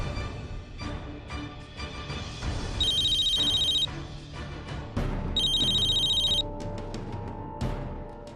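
A telephone rings in a Hindi TV serial scene, two bursts of bright electronic ringing over a busy music and effects bed.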